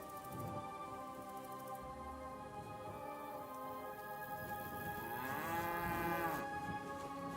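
Cows moo in the video game Kingdom Come: Deliverance 2, long, low drawn-out calls, one swelling louder near the end, over a soft steady background hiss.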